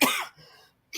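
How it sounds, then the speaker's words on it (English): A single harsh cough bursts out at close range and trails off into a brief raspy throat sound, followed by a short pause before another noise starts at the end. "I still got the cough"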